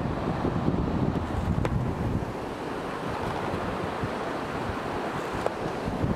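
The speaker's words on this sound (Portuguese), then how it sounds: "Rio do Ouro, na cabeceira da Cachoeira da Torre." Steady, dense roar of the Rio do Ouro's water rushing at the head of the Torre waterfall, a continuous broadband wash with no pauses.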